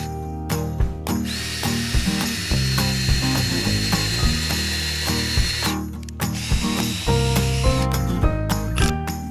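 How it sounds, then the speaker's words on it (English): A drill drives screws into pre-drilled dense wood boards for a wedding arch, its motor whirring loudly in repeated runs broken by sharp ratcheting clicks and brief pauses. "pre-drill, and then just shoot the screws in there"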